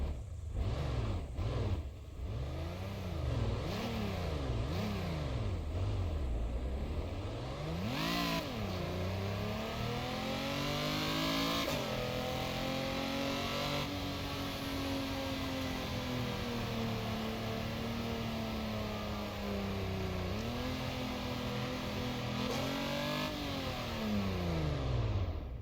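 A Nissan 240G car engine in a Roblox racing game revs hard, its pitch sweeping up and down in repeated bursts before settling into a long, steady, loud drone with small rises and dips.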